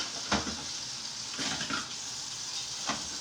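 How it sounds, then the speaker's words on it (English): Hot ground-beef grease poured through a metal dish strainer in a home kitchen, a soft watery trickle and splash with a few louder spatters, close and moderately quiet, no talk. "strain this grease"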